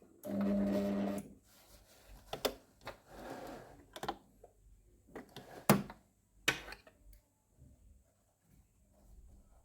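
A sewing machine stitches back and forth along the hem of denim jeans: a short, steady motor run up close at the start, then scattered light clicks and taps.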